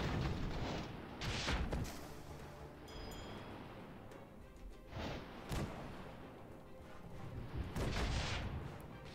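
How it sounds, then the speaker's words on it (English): Rockets striking airships in the Airships: Conquer the Skies strategy game, heard as several loud, booming thuds spaced a few seconds apart over a constant low rumble of battle. "Hope we can get out of range of those rockets."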